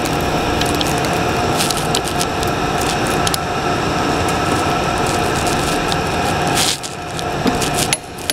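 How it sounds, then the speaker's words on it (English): Wrench clicks and ratchets while torquing a 24 mm fuel injector on a Cummins ISX diesel engine during an overhead check, a dense run of close, loud metallic ticking and rattling that steadies, then drops briefly near the end. "That has our injector torqued."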